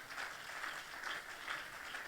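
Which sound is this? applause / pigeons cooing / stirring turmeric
applause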